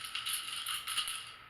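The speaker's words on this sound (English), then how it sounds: "it works great in terms of rolling our dice" Small dice rattling and clattering inside a wooden box in a few quick bursts, close and fairly quiet, with no voices.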